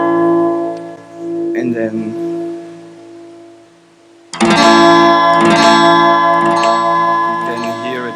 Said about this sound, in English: that's what a delay effect does, and that's what you can use a delay node for